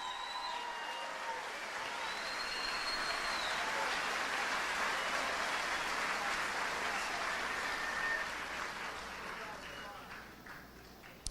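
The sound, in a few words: audience applause in church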